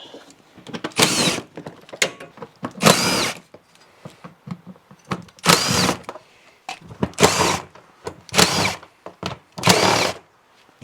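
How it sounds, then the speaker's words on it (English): Bursts of a power drill backing out the clutch cover screws on a Polaris Sportsman 800 ATV, about seven short whirring runs, close and loud, separated by quiet pauses and small clicks. "Now we'll go around this and remove all the clutch cover screws."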